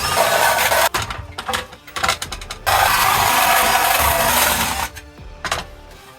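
Deburring tool widening drilled spot-weld holes in a metal radiator support, giving bursts of scraping, ratcheting metal noise broken by short pauses and clicks, close and fairly loud.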